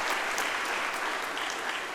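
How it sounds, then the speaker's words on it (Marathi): Applause from an audience at a university inauguration ceremony, dense and steady clapping sustained at a fairly loud level from start to finish. "त्यांच्यासाठी सुद्धा टाळ्यांचा गडगडाट"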